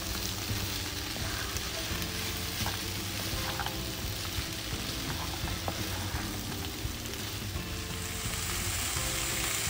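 Kung pao chicken with bell pepper stir-fried in a hot pan, a loud, continuous close sizzle with scraping stirring clatter and small crackles throughout.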